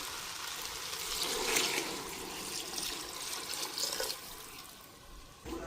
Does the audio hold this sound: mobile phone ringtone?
no